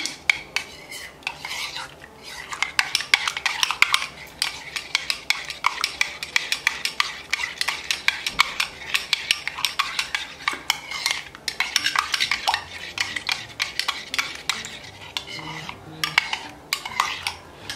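A spoon stirs a coffee drink sweetened with a spoonful of honey, clinking steadily and rapidly against the cup in a continuous metallic rattle that carries on for the whole stretch without any talk.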